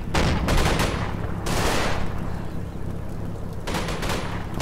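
Tank gunfire against a building in the WWII strategy game Combat Mission, Market Garden campaign: heavy bursts of shots and rolling blasts over a constant low rumble of battle, loud and dense throughout.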